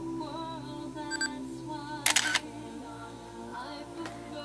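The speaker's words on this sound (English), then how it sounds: "You can hear the shutter sound effect." A short electronic shutter click from a Sony camera triggered by a VCT-D680RM remote control tripod sounds alone, with a faint steady tone and a few soft beeps around it.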